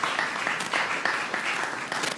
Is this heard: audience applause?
yes